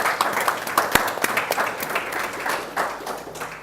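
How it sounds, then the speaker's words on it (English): A conference audience applauds a panel at a London financial markets event on Zimbabwe, a dense, sustained round of clapping from many hands that stays fairly loud and even, with no one talking over it. "let's give a round of applause for our panel."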